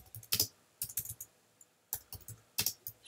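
Bursts of typing on a computer keyboard while a word is entered into a file, quick clusters of key clicks separated by short pauses, close and fairly quiet with no talking.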